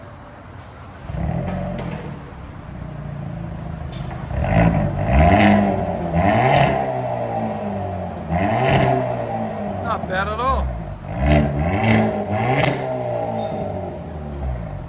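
A Hyundai Kona N with its exhaust valve open and resonator deleted revs repeatedly, each throttle blip rising to a loud, raspy roar and falling back, with someone briefly talking between pulls.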